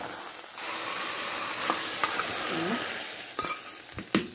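Garlic drops into hot oil over cooked mallow (khobeiza), giving a steady close sizzle with light stirring and a few sharp utensil clicks near the end, no talking.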